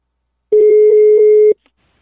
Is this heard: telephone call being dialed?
yes